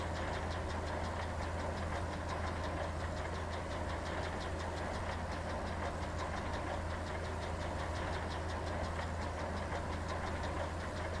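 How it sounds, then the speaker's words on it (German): Tractor engine running at full throttle in Farming Simulator 15, a steady, droning mid-pitched roar with a fine rapid knocking pulse, unchanging and continuous throughout, with no voices. "Ich gebe jetzt Vollgas im Moment."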